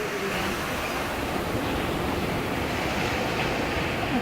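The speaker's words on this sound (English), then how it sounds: "just to be able to hear the sound of the ocean." Ocean surf on the Wild Atlantic coast, a constant broadband wash of breaking waves with wind noise, steady and loud with no voices.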